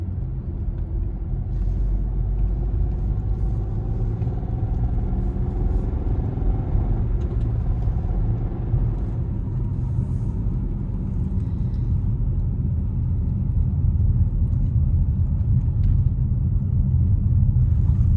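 A car drives a twisting, dipping road in Ukraine, heard from inside as a continuous low rumble of engine and tyres that stays steady and close throughout.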